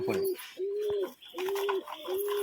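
Close pigeons give several rhythmic, low cooing calls in quick succession, each a steady throaty note separated by short gaps, with no voices.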